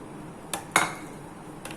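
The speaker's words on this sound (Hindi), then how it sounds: "अब इसे अच्छे से मिक्स कर लेना है हमने।" A few sharp clinks and scrapes of a spoon against a dish while mixing chana chaat with potatoes and lemon, quick isolated strikes over quiet room tone.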